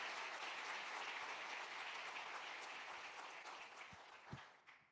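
Church congregation applauding a pastor, a dense wash of clapping that starts full and gradually thins out over several seconds, with a couple of louder knocks near the end.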